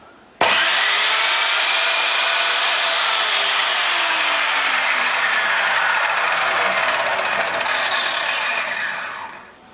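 An Evolution R210CMS mitre saw runs freely after being switched on, a loud steady whine with a bright scraping edge that holds for about nine seconds before starting to spin down. Nobody speaks.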